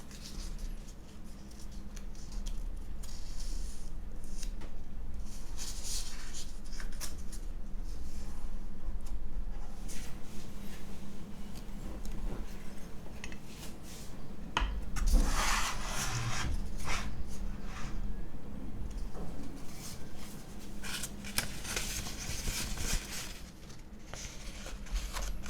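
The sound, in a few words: folding paper coffee filter for pour over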